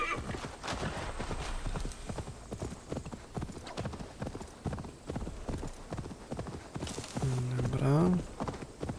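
A horse's hooves clip-clop in a quick, even rhythm as it gallops in the Viking-era game Assassin's Creed Valhalla, ending in a loud whinny, with occasional voice in the background.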